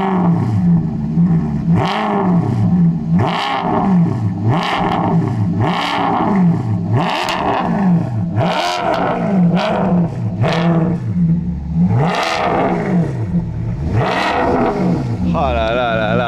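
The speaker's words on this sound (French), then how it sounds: "J'ai jamais entendu une voiture qui fait autant de bruit stock" An Alfa Romeo 8C Spider's engine fires up and revs again and again, each loud rising roar dropping back between blips, close and dominant, with brief voices near the end.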